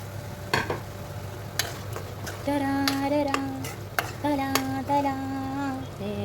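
Liver pieces go into a hot pan and are stir-fried, with scattered spatula clicks and a soft sizzle while a song plays in the background.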